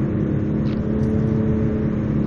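A car in Final Fantasy XV cruises steadily with an even mid-pitched engine hum and road drone, loud and continuous with no talk.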